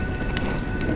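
Steady rain falling in the video game Honkai Star Rail, a dense continuous patter with no voices, broken by brief brighter bursts that may be distant thunder or heavier drops.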